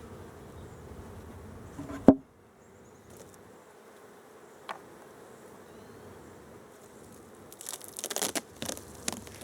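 Honeybees buzz steadily during a beehive inspection, a low continuous hum close to the hive with a few sharp knocks and rattles from handling the boxes, and no talking.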